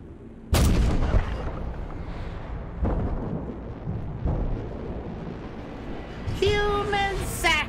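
Soldiers firing guns in the video game Detroit: Become Human: a sudden loud burst followed by repeated heavy booming shots over a low rumble, then a bright electronic tone near the end.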